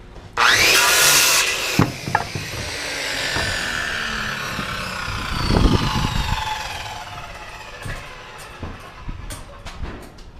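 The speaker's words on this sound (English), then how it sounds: "So I'm just gonna cut random pieces off of them." A saw cuts pieces off rough wooden framing studs, opening with a loud, harsh burst of cutting. Rasping and scraping follow, along with scattered knocks of wood. Close and fairly loud, with no voices.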